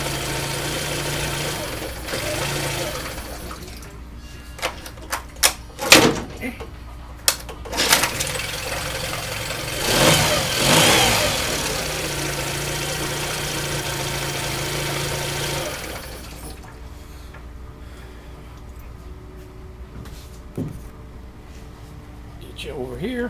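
Yamaha 9.9 four-stroke outboard engine running after a choke modification, a steady close idle chug with a few sharp knocks and bumps, someone talking at times.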